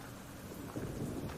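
Rain and rumbling thunder from the Black Book video game, a steady broadband downpour with a low rolling thunder swell building in the second half, no voices.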